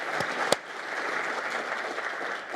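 An audience applauds at a youth council graduation with steady, moderate clapping across the whole moment and one sharp, loud clap standing out near the start.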